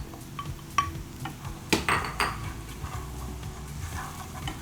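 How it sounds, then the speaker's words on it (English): A spoon stirs curry leaves and curry powder blend in a pot, scraping and clinking against the metal in a few sharp knocks and rubs over a quiet background, nearby and without speech. "I'm going to mix that around, and we're going to add our curry blend here, our curry powder blend"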